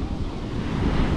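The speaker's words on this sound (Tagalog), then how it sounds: "dagat pag humampas" Sea waves crash and surge in a dense, loud roar, with wind buffeting mixed into the continuous wash of surf.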